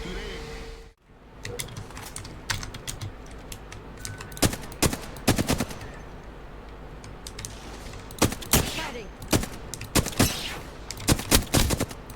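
Bursts of gunfire from the video game Apex Legends crack in scattered clusters and rapid volleys, loud and close, mixed with game effects and mechanical clicks, and no speech is heard.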